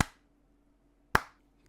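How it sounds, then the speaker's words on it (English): Two crisp, sharp hand claps, spaced about a second apart in a slow rhythm, each loud and close with a short echoing tail in a quiet room. "Garrett interrupted her with a low, slow clap"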